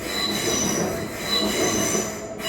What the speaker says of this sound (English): We'll just let the train go by.